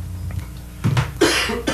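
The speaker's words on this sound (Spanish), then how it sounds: "es que la tos es un poco complicada esta hora" A single cough from a man partway through a Spanish-language news broadcast, with a second, fainter bark-like burst following it.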